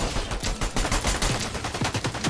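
Rapid automatic gunfire in the Fortnite video game, a dense run of loud, close shots cracking in quick succession with no gaps, heard alone.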